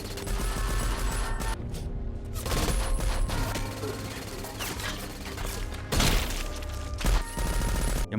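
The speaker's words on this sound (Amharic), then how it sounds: "በድንገት ከላይ የተከፈተባቸው እብድ ተኩስ ሁለቱንም ያቆስላቸዋል።" Loud, dense volleys of gunfire burst out in a revenge film about a father whose son was shot on Christmas Eve. The shots are sustained and chaotic, with sharp peaks standing out among the rapid firing.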